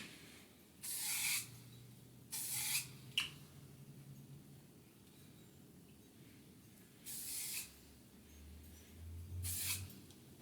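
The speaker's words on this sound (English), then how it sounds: "I'll just kind of put a little bit of spray wax, hairspray" Several short bursts of hairspray hiss on hair, each about half a second, separated by quiet pauses over a low background hum.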